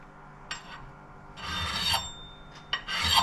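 The edge of a Cold Steel Norse Hawk axe is honed on a ceramic stone, giving a few short, faint rasping strokes: one brief pass, then longer scrapes with pauses between them.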